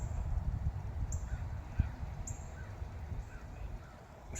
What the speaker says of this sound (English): Couple of birds up there.